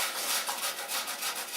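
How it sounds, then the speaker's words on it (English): Potatoes rubbed against a kitchen grater for Polish potato pancakes, a steady, close rasping scrape in quick repeated strokes with no talk. "This is a nice grater."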